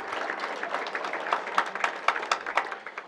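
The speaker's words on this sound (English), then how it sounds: "Let's give him a round of applause." A modest round of audience applause at a university awards celebration, steady clapping with a few sharper individual claps standing out, fairly close and alone without talk.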